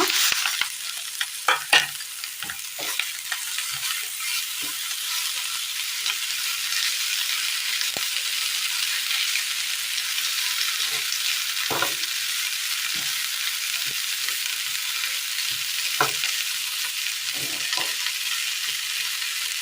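Grated coconut and drumstick leaves stirred in a pan of toasted spice powder for a Kerala curry, a steady high sizzle under repeated spoon scrapes and clicks against the pan, close and continuous with no talking.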